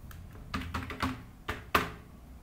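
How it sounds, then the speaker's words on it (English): A few sharp clicks and thunks of keys pressed on a computer keyboard, including the delete key, spaced irregularly and close up, with no talking. "simply click the delete button from your keyboard"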